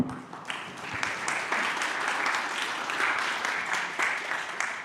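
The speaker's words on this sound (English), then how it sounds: "please welcome Martin Beránek with big applause" Sustained applause from a conference audience welcoming a speaker to a tech talk, a steady dense wash of many hands clapping at moderate distance for several seconds without pause.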